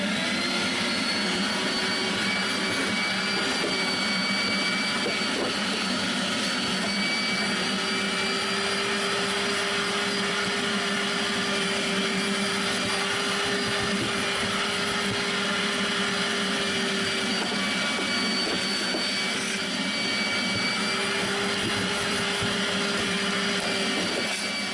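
A vacuum cleaner sucks dirt from a car's interior carpet. A loud, constant whining drone holds without a break for the whole stretch, with its pitch shifting slightly as the nozzle moves.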